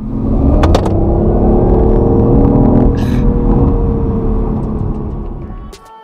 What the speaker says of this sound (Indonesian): suara mesin yang keren di kabin i8 terbantu oleh suara dari speaker